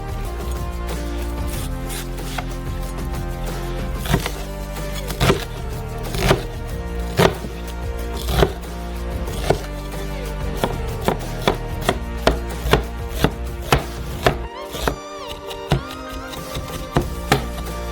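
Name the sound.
knife chopping a large onion into small cubes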